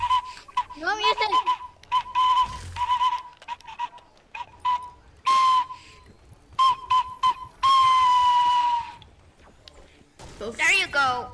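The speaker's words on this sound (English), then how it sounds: "A whistle. No, like the flute." Flute-like whistle tones from a video game in a storm battle-royale match, sounding in repeated short steady notes and a few warbling trills, loud and close, interleaved with excited talk from players.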